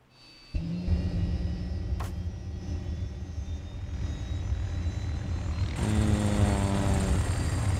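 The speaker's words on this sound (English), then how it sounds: "But the Russians called in a chopper." A Russian military helicopter in the World War video game with Modern Mod kicks in with a loud rotor and engine drone that swells louder near the end, steady and close.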